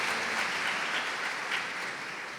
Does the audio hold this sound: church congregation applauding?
yes